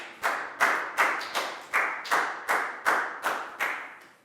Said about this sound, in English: a big round of applause for Pak Bung